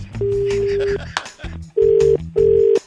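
A steady telephone tone beeps in short repeated bursts after a line goes dead, with a voice speaking briefly between the tones.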